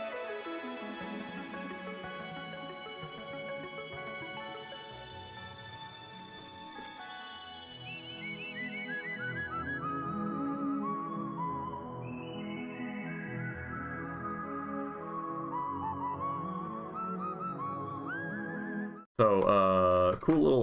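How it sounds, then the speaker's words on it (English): Bright, wavering synthetic whistle-like melody over layered electronic music, sustained throughout, with a sudden burst of different sound near the end. "anyone creating a realistic, synthesized human whistling sound"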